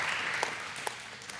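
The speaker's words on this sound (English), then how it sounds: "how about a round of applause for Serenity?" The fading tail of audience applause at a New Year's Eve comedy hypnosis show in Bradford, a soft wash of clapping dying away with a few last isolated claps.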